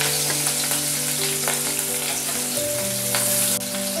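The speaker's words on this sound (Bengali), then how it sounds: "মাছটা একটু ভালো করে লাল লাল করে ভাজতে হবে" Katla fish pieces coated in salt and turmeric fry two at a time in oil until reddish-brown, with a constant close sizzle and fine crackling over a steady low hum.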